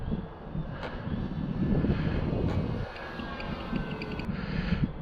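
Steady drone of a 2010 Tecnam model airplane engine in flight, heard amid wind rush over the microphone, fairly constant with a slight swell midway.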